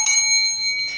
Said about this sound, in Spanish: ahora sí su campanilla, señor.